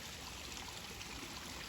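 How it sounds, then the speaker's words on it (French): A tiny waterfall beside a river bend below a cliff in the Alpes Mancelles trickles with a steady, faint, even wash of water, with no other sounds. "petite cascade minuscule"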